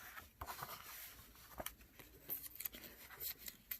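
Scissors cutting matchstick shapes out of paper, very quiet and close, with a run of soft irregular snips and crisp paper rustles and no talk.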